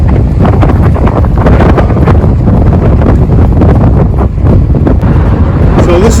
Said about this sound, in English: as you can see, it's a little windy here, but very cool.